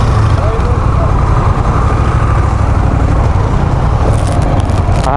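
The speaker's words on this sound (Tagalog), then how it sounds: "Pwede nyo na pong increase yung throttle." Honda Rebel 1100 automatic motorcycle running, a loud steady low engine rumble as the throttle is increased, with voices speaking over it.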